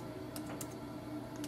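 Sparse keystrokes on a MacBook keyboard while typing into a web browser, a few quiet clicks spread over a steady low hum.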